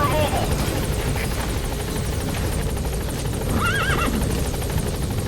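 A horse whinnies in Metal Gear Solid V: The Phantom Pain, a short wavering neigh rising above steady helicopter rotor drone, while voices talk over the scene.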